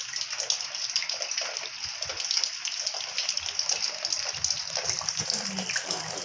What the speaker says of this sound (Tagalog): And it's raining very hard.